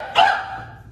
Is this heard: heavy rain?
no